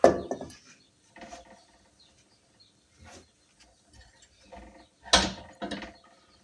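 A wrench working a nut loose on the suspension of a BMW X3 xDrive, a handful of separate ratcheting clicks and metallic scrapes in short bursts with quiet gaps between, close and fairly loud.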